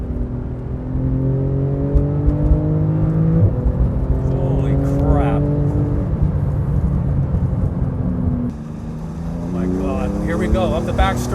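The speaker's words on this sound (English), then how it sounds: "Driving a GT2 RS on a racetrack." A Porsche 911 GT2 RS engine roars close and loud on a racetrack, its pitch climbing through the revs in rising sweeps, with a gear change partway through before it pulls hard again.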